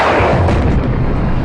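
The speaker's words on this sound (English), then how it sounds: "A contact, a one-time mortar round, the mortar impacted roughly 30 meters to my south." A mortar round detonates on impact roughly 30 meters away during a combat patrol, heard as a loud, broad booming roar that fills the whole moment.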